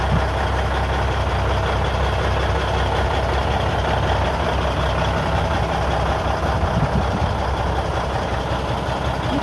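Heavy haulage truck engine idling, a steady, loud low rumble running unbroken throughout with no talk.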